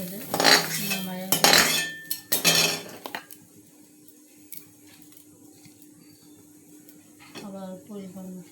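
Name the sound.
stirring food in a cooking pan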